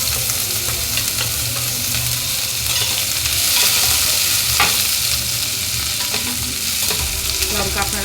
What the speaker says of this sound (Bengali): তেলটা গরম হয়ে গেছে। এখানে আমরা আদা কুচি, রসুন কুচি আর লঙ্কাটা দিয়ে দেবো।